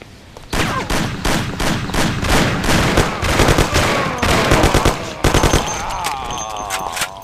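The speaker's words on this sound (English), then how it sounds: "We heard shots" Gunfire in the video game Mafia: rapid bursts of loud, close machine-gun and gunshot blasts crackling in quick succession for several seconds, then fading into an echoing tail.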